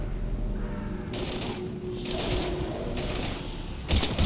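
Bursts of gunfire in a Mass Effect 3 combat firefight on PC, loud broadband cracks arriving in several clustered volleys over steady battle noise and a low rumble.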